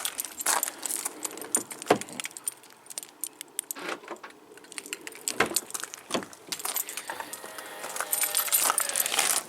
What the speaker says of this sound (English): that noise you're hearing was the wing mirror folding out